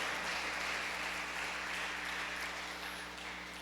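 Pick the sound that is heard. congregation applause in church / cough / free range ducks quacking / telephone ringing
congregation applause in church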